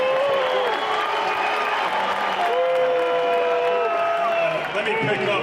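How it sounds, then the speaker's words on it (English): Crowd at a boxing press conference for Canelo vs Terence Crawford applauds steadily, with dense clapping and scattered cheers lasting throughout, loud and continuous, while voices and murmurs blend into the noise. "give Turki Al-Sheikh a hand and a round of applause"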